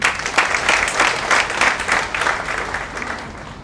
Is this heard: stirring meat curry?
no